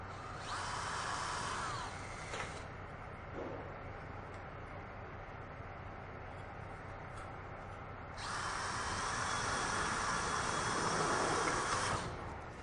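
A power drill drives a self-drilling screw into a reinforced-gauge metal stud for a drywall ceiling, with two sustained high whining bursts, one at the start and a longer one later, separated by a quieter hum.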